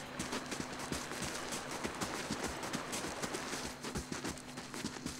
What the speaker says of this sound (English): Was that a horse?